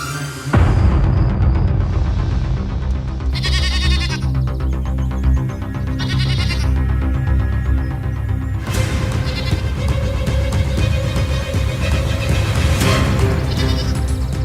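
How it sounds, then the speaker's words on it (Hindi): Goat bleating in a Hindi biblical short film, several loud wavering cries close by over a dense scored background, with no talk. "तो जाओ, जाकर बकरी को लेकर आओ"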